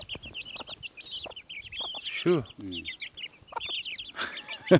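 Hens in a coop cluck and squawk continuously at close range, with a couple of louder squawks and a brief murmured voice among them.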